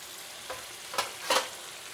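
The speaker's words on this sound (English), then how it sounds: "I'm going to pan fry this for about 4 minutes or so on the one side" Salmon sizzling in a frying pan, a continuous close hiss broken by a few soft scrapes or spatters.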